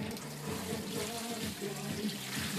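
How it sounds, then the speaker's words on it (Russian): Hands being washed under a running tap outdoors in a Siberian garden, a steady close stream of water splashing continuously with small shifts as the hands move through it. "Ну, пойду помою руки"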